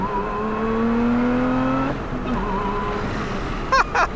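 From inside the cabin, a 2024 Lotus Emira Sport's engine climbs in pitch as it revs, drops with a quick gear change, then pulls again. Brief sharp squeaks follow near the end over a steady road and wind rumble.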